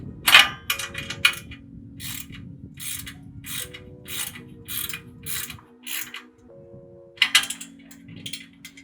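A bolt on an AVC RIG roof rack for a Ford Transit Extended is tightened with a 3/16 tool, giving a close series of repeated metallic ratcheting clicks in bursts with short pauses and steady tonal squeaks between.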